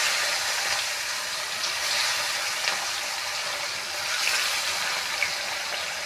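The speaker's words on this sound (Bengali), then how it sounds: "দেখুন, তেলটা আমার গরম হয়ে গেছে। মাছগুলো এবার আমি ভেজে নেব।" Bata fish fry in hot oil, a steady bright crackling sizzle that stays dense and even throughout at moderate loudness, with no voices.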